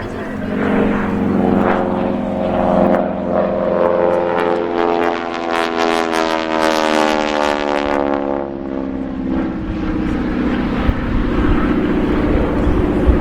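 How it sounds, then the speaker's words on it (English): A Harvard 2B propeller training aircraft drones past on its final pass at the RAF Cosford Air Show 2025, its engine note rising and shifting in pitch as it nears and then recedes, with a voice talking over it. "this aeroplane coming in for its final pass"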